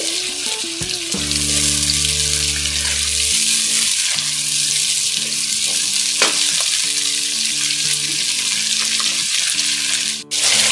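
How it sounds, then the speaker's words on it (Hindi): Onion paste sizzles steadily in a hot pan as a broad, continuous frying hiss, close and fairly loud, with a tonal background melody playing underneath. "इसमें हम प्याज का पेस्ट डाल देंगे। इसको हम तकरीबन 5 मिनट तक फ्राई करेंगे।"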